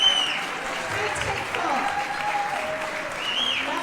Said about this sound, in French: Allez, on les applaudit très fort.